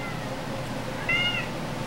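A pet cat gives a single short, clear meow partway through, close by against a steady background hiss in a home setting.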